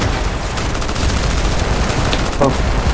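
Dense automatic gunfire rattles continuously in Battlefield Heroes, loud and close, as a player speaks over the shooting.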